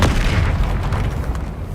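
A Confringo spell explosion in the Hogwarts Legacy video game: a loud, sustained booming blast with a deep low rumble that carries through the whole moment, without any voices.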